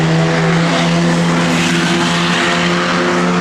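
A 1969 Dodge Dart Swinger, set up for street cruising, idles loudly with a steady, deep engine drone and a constant low hum held throughout, close up and with no talking.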